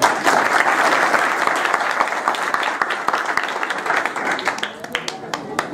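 Strong applause from an audience at a felicitation gathering, dense clapping that thins toward the end into scattered individual claps, with a voice speaking over it.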